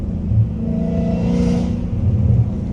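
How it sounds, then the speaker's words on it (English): A Dodge Challenger Hellcat Redeye's exhaust rumbles loudly and close, with a deep burbling rev that rises and falls and echoes off nearby surroundings, and no talk over it. "the exhaust when it echoes"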